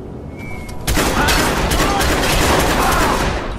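Dense gunfire erupts in the video game Watch Dogs, a loud sustained burst of overlapping shots following a brief quieter lead-in, with no talking.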